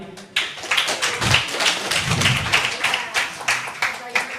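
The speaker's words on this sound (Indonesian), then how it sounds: "Kita tepuk tangan sekali lagi." Uneven applause from the audience at a religious debate event, with sharp claps scattered through a moderately loud room and a hollow, roomy sound.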